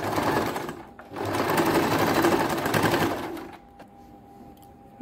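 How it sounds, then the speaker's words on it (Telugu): A sewing machine stitches folded fabric for a blouse dori in two close, rapid bursts of loud rattling with a brief pause between, then falls quiet. "ఇది కొద్ది పైకి మడిచేసి ఇలా స్టిచ్ వేసేసుకోవాలి"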